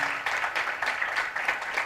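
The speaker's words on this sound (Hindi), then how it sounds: "जोरदार तालियां।" Audience applause at an Independence Day singing programme, a steady wash of clapping lasting under two seconds, moderately loud with slight pulsing.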